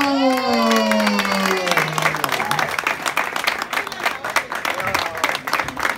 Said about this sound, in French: Meilleur balafoniste 2024, Serge et Coton, qu'on peut applaudir bien fort, s'il vous plaît